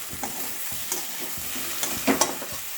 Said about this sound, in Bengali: এবার একটুখানি এটা জাস্ট ভাজবো।